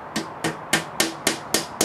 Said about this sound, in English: just hammer that in too